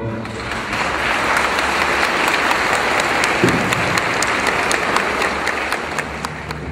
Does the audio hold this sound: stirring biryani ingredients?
no